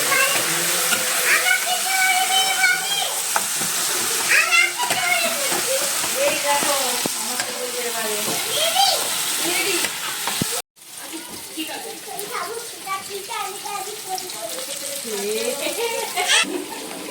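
Spices sizzle and crackle steadily in a hot pan on a home stove, a continuous frying hiss that cuts out briefly and then resumes, while someone talks throughout over the cooking.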